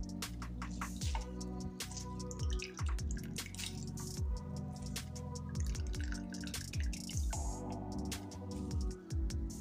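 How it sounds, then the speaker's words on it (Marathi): Water drips and trickles as it drains from long, thin shreds of grated potato that were soaked in water for a fasting chiwda snack. Small splashes repeat through the clip over steady tonal background sounds, with no talking. "याचं पाणी काढून घ्यायचं."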